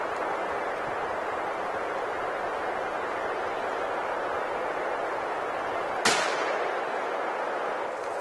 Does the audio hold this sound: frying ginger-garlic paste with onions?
no